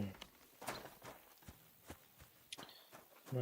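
Horse hooves in Kingdom Come: Deliverance, a series of irregular thudding steps on the ground, fairly close but quiet, spaced unevenly across a few seconds.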